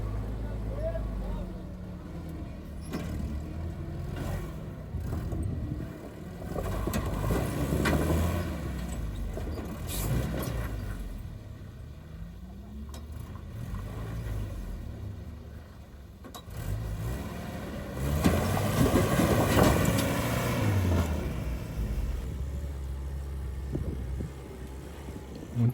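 Antique Jeep engine revving and straining as it climbs rock steps in Pritchett Canyon, rising and falling in bursts at moderate distance, with people talking over it.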